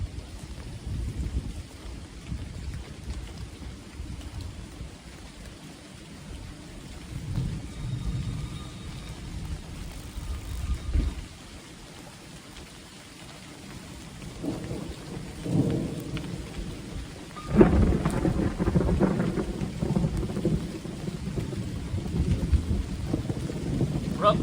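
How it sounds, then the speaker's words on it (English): Heavy rain pours steadily at a fence-building site, with rumbling thunder swelling and rolling through it and a sharp, louder thunder crack late on; no voices. "Gerda, we're working in the rain."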